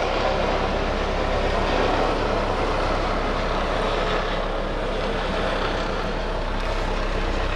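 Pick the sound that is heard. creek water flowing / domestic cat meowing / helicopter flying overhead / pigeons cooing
helicopter flying overhead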